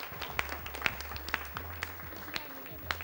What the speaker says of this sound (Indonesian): Oke, baik, tepuk tangan dong buat Mbak Vina dong.